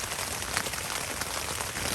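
Rain falls on a backpacking tent, a dense, close patter of many small drops forming a steady wash of sound with no voices.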